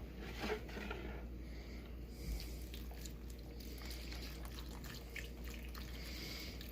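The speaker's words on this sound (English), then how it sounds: "So I'm gonna pour some chicken stock in" Chicken stock poured into a pot for wild mushroom cream soup, a soft, continuous liquid trickle with a few splashy drips over a low background hum.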